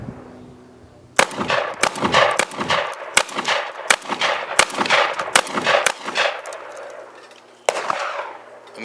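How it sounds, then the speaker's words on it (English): A 12 gauge shotgun firing 00 buckshot at a rubber dummy about ten yards away outdoors, a rapid string of roughly a dozen loud, sharp blasts with ringing echoes, then a pause and one more shot. "And that's double up buck shot from a shotgun."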